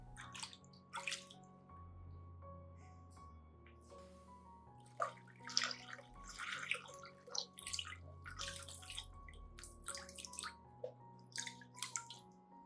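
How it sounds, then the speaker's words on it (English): Water runs and splashes over orchid roots as they are rinsed, with scattered drips and gurgles in irregular bursts over a soft tonal background hum. "Rinse the plant gently, especially around the root collar and the base of the leaves, to avoid damaging the healthy young roots."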